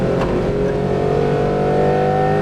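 A Datsun 240Z on a race track, its engine revving hard toward 8,000 RPM with a loud, steady mechanical drone and a rising pitch throughout.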